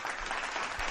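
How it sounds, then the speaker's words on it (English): A live podcast audience gives a short, dense burst of applause, lasting under a second and heard alone without talk. "thank you for the applause"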